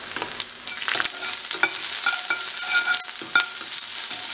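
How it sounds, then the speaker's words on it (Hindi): Potatoes frying a second time in refined oil over a low flame for honey chilli potatoes give a steady, close crackling sizzle, with stirring scrapes and light utensil knocks throughout. "ये जो हमने पोटैटोस फ्राई करे थे एक बार ही अब दूसरी बार भी हम इसको फ्राई करने रख देंगे।"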